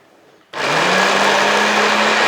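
A manual non-electric juicer machine cuts cabbage: after a quiet start, a sudden loud, even whirring grind runs for under two seconds, then stops abruptly.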